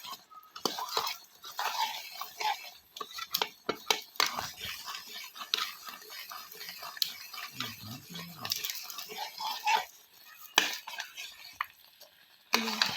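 Milk thickening into a reddish mass in a pan for homemade pera, made from cow's milk and sugar, stirred with a utensil in repeated scrapes and clinks, moderately close, with occasional speech.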